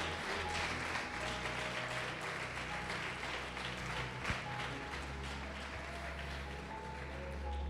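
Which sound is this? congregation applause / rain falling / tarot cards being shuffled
congregation applause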